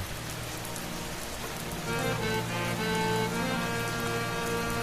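Steady rain and storm pour down, a dense continuous hiss of drops on surfaces that grows heavier partway through, with a low rumble underneath and no voices.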